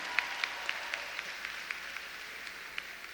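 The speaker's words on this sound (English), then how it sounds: "Let's give Kareem a round of applause for his vision" Faint, evenly spaced claps from an awards-show audience in the Virgin Islands, thin and scattered rather than a full ovation, running steadily for a few seconds with no talking.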